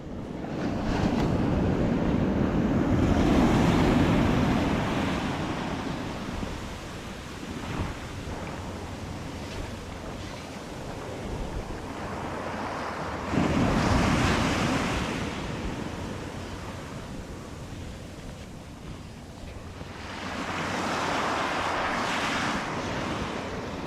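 Ocean surf breaking on a sand beach during striper fly fishing, a steady wash of waves rising and falling in slow swells with wind rumbling against the microphone, no voices.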